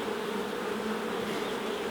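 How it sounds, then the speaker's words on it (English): Honey bee buzzing close by at a beekeeper's hand during a hive inspection, a steady droning hum with no pauses and no talk. "there's a bee there investigating my thumb"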